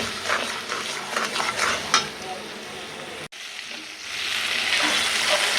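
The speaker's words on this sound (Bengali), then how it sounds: "মশলাটা একটু ভালো করে কষা গেলেই" Masala spice paste with tomato sizzles and fries in oil while a utensil stirs and scrapes the pan, close and steady, for a Bangladeshi pangas fish bhuna; a brief cut midway, then frying resumes louder.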